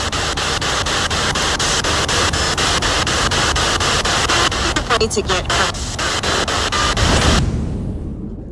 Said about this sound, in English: After we receive hiding through the spirit box, this corresponding response comes through.